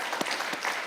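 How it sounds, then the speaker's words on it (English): Audience applause at a Coming of Age Sunday service honouring the parents, a steady wash of many hands clapping at moderate distance, continuous and even throughout the short moment. "let's give a round of applause for the parents of our coming-of-agers"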